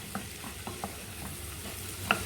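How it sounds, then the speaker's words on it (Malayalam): Chopped bitter gourd sautéing in a pan for a tamarind curry, a soft steady sizzle with a few light stirring scrapes and one sharp clink near the end. "അതിലേക്ക് കൈപ്പയ്ക്ക അരിഞ്ഞത് ഇട്ടിട്ട് വാട്ടിയെടുക്കാം"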